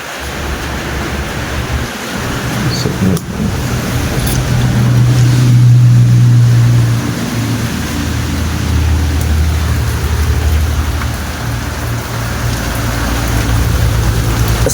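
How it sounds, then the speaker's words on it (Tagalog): Heavy rain pours steadily as a typhoon approaches, a loud dense wash of drops with low rumbling underneath, swelling briefly in the middle and continuing unbroken with no voices. "Lakas ng ulan."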